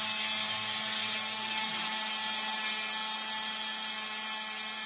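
A Kress spindle on a Tormach PCNC 1100 CNC mill cuts steadily, a constant high whine over a low machine hum, close and unbroken throughout.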